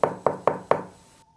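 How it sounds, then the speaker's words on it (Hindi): Four sharp knocks on a mortuary door, evenly spaced and close, each ringing briefly before fading into silence, with no voices present. "अचानक दरवाजे के पीछे से ठक ठक की आवाज़ आती है।"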